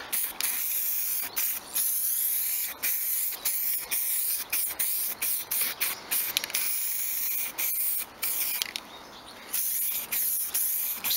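A spray gun lays a light primer coat on a Stratocaster guitar body, giving a series of sharp hissing bursts separated by brief pauses, close and fairly loud, with no talking.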